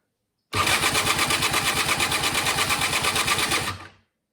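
A Honda Spree scooter engine cranks over with a stronger starter installed, a fast, even, loud chugging rhythm lasting about three seconds that begins abruptly and then cuts off.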